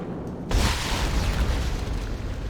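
A heavy explosion in the sci-fi horror game Dead Space after an object on the floor is shot: a sudden loud blast erupts out of a quiet backdrop, then a thick rumbling roar sustains without fading.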